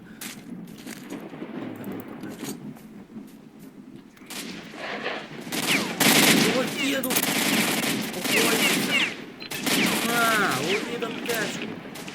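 Gunfire in S.T.A.L.K.E.R. Shadow of Chernobyl comes first as scattered shots over a quieter stretch, then as loud, sustained bursts of rapid automatic fire with booming impacts, close and dense, with a voice speaking in between.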